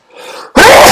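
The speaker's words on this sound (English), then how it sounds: "I had to sneeze." A close sneeze: a quiet breathy intake, then a sudden loud explosive burst that clips at full level.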